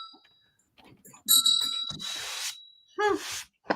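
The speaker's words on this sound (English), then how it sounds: "Now it goes back to dinging." A small bell on a candle holder gives a couple of bright dings that ring out with a sustained tone, mixed with handling clatter and people talking nearby.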